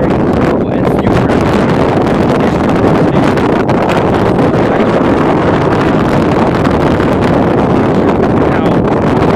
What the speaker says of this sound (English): Extremely windy, so you probably can't even hear me.